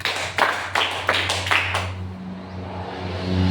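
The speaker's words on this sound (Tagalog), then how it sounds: "Bigyan ng 5 palakpak." Five sharp, evenly spaced claps from a class during a lesson, loud and close, followed by quiet with a low steady hum underneath.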